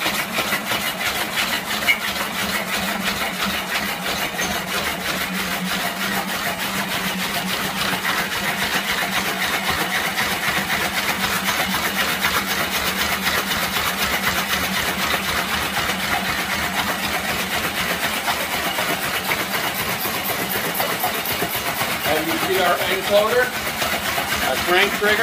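A homemade magnet motor runs steadily with a fast, even mechanical ticking and hum, loud and unbroken for the whole stretch, with someone talking over it.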